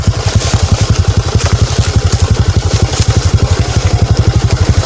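A motorcycle engine is revved hard with a rapid, steady pulsing throb, loud and close for the whole stretch, with no talk over it.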